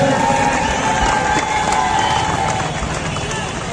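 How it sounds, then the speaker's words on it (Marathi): A large crowd cheers and claps loudly at a Dahi Handi festival in Kamothe after a six-tier human pyramid, forming a dense, continuous roar of voices and applause. "त्या मुलीसाठी एकदा जोरदार टाळ्या होऊन जाऊ द्या."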